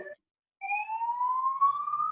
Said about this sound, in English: Somebody has the siren.